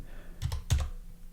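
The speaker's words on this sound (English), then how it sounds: "And if I type this now again," A few quick keystrokes on a computer keyboard while entering a bot's role command: two short bursts of clicks, close and fairly quiet, with no talking.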